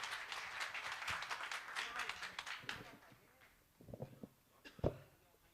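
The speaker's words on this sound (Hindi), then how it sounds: "आपकी जोरदार हाथ उठाकर तालियां आशीष अनल" Faint applause from an audience at a Hindi poetry gathering greets poet Ashish Anal, a scattered clatter of hands that thins out over a few seconds beneath a voice and some later thumps.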